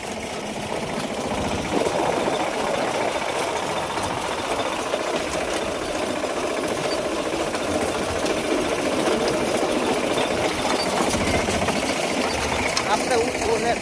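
A tractor engine idles on a farm with a steady, continuous rattling drone, close and constant throughout, while people talk over it.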